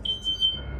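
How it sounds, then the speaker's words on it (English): A high-pitched fire alarm gives short electronic beeps, two or three quick tones, fairly clear against a quiet room. "a fire alarm that turns off only when he commands it"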